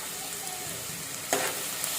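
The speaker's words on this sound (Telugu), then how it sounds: "వన్ టేబుల్ స్పూన్ అల్లం వెల్లుల్లి పేస్ట్ వేసుకుంటున్నాము" Ginger garlic paste fries in a pan, a steady soft sizzle with a brief louder hiss and crackle as it is stirred, fairly close and without talking.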